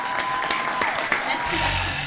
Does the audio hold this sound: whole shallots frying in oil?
no